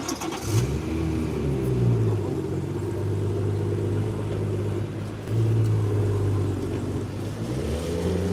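A BMW car pulling away nearby, its engine revving up with rising pitch, easing off, then climbing again as it accelerates, with a steady low drone throughout.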